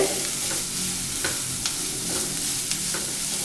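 Vegetables for fried rice sizzle and sauté in a pan with occasional scraping stirs, a steady close frying hiss with no talk.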